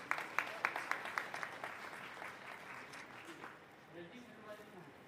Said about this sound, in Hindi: एक बार प्रशांत जी के लिए जोरदार तालियां बजा दीजिएगा।